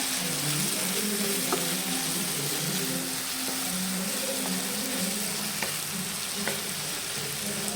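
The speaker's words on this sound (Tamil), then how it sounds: "நல்லா தக்காளியெலாம் வதங்கட்டும்." Tomatoes sauté in a pan for paneer butter masala with a steady, close sizzle. A low bubbling hum runs underneath, a few light utensil taps break through, and nobody speaks.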